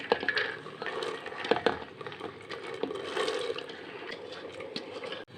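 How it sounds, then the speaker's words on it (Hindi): Soaked chana dal tips into a pot of boiling water, making close splashing, pouring and dripping sounds with a few light knocks against the pot. "ये अभी जो दाल हमने भिगो के रखा था अब इसमें हम डालेंगे"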